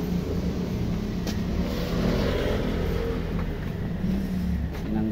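Car engine idling steadily with its exhaust pipe removed, a loud continuous low rumble close by.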